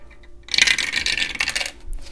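A six-sided die tumbles and clatters across a hard surface in a burst of rapid rattling clicks lasting over a second, close and fairly loud, then comes to rest with a faint final tap.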